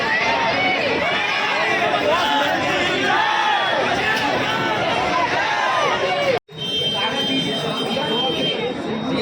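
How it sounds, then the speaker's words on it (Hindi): A large, dense crowd packed at a temple gate during Mahakali darshan at Garha Phatak, Jabalpur: loud continuous babble of many voices and shouting, close and unbroken, with a brief cut near the end before the din resumes. "काफ़ी ज़्यादा भीड़ है, पूरा धक्का दिए जा रहा है जिससे गेट टूटने का डर है।"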